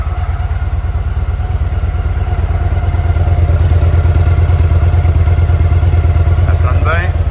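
Motorcycle engine running close and loud with a fast, rhythmic throb, rising as the throttle is blipped and held at higher revs, with a brief clatter near the end.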